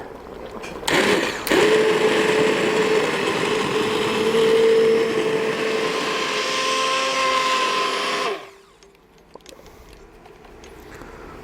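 A blender blitzes cooked tomatoes loudly and steadily for about seven seconds, its motor pitch wavering as it churns, then cuts off abruptly into quiet kitchen sounds.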